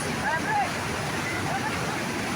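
Majayjay Falls sends down a continuous, loud, even rush of falling water, a dense broadband roar with no breaks.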